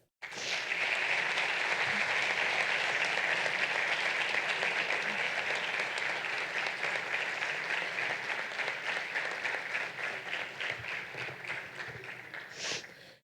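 Sustained applause from an audience at a student association inauguration ceremony for the outgoing team, steady and full for about twelve seconds before tapering off, with a few scattered cheers near the end.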